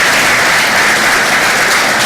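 Crowd clapping fills a hall at a prison service SACCO top savers workshop, a continuous, loud roll of applause from many people with no pause for its full short length.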